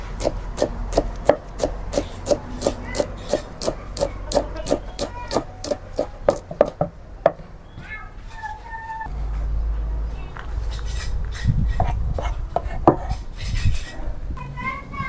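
A knife chops rapidly and rhythmically on a cutting board for about seven seconds, likely mincing ingredients for a Cambodian beef prahok salad with lime leaves. Clattering utensils follow, then louder kitchen knocks and scraping.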